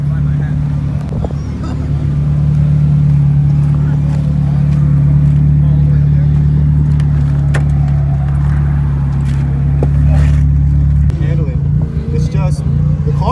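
Nissan 240SX drift car running on a track: a steady droning engine note held throughout, loud and continuous, with voices murmuring faintly underneath.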